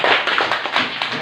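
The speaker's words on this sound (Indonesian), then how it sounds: "Tepuk tangan untuk kelompok 3." A group of students in a classroom gets a round of applause, dense clapping hands filling the whole short burst at a steady, fairly loud level with no talk over it.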